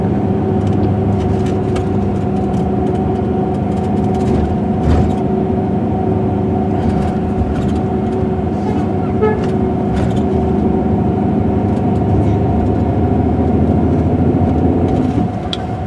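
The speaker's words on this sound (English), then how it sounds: "You see many cars entering in Messina every day." Cars and buses driving into Messina, Sicily make a dense, continuous engine rumble with a steady low drone. The traffic stays close and loud, broken now and then by brief passing whooshes and faint clicks.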